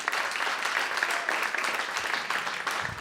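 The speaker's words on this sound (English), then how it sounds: "Check her out, everybody. Clap for Jen Rubin." A comedy club audience at Comix applauds steadily in a dense, continuous clatter of hands, filling the room without a break.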